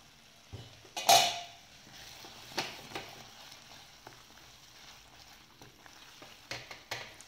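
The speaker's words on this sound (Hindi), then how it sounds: "फ्रेंड्स इसमें जाएगा थोड़ा सा हम क्रीम डालेंगे" Cream poured into a palak egg curry in a pan, with a clatter of utensil against the pan and soft sizzling and stirring that taper into quieter scraping and a few light clinks near the end.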